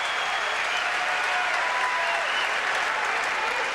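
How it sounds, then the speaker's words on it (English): A tennis crowd applauds and cheers for Andre Agassi during the 2002 Miami final against Federer. The applause is a dense, sustained wash that stays steady for the whole stretch. "Listen to them cheer for Agassi."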